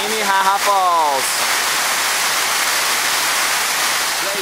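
Steady, loud rushing water of Minnehaha Falls in Georgia fills the clip, broadband and continuous like a nearby waterfall, with a brief voice at the start.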